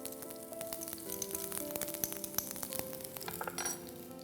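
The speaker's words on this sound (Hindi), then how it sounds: "अब इसमें हम डालेंगे लहसुन," Garlic dropped into hot oil with crackling mustard seeds for an Andhra-style mushroom dish, giving a soft steady sizzle with sharp pops and light clinks of a spoon against the pan, fairly quiet and close.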